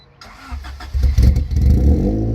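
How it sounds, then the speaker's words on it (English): Honda CRX engine cranking and catching, then climbing into a series of rough, cold-running revs that settle into a loud, uneven idle close by. "now we'll give you a rev of Nick's CRX here"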